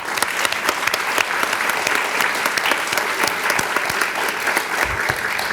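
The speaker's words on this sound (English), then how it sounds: "Give yourselves a big round of applause." An awards ceremony audience gives volunteers a big round of applause, loud, sustained clapping from many hands that stays dense and steady from start to finish.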